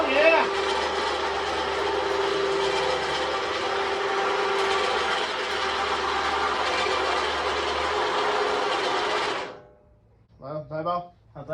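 An electric winch installed on an overhead lift I-beam in a garage runs with a loud, steady mechanical drone and whine for several seconds, then cuts off abruptly, followed by a person speaking.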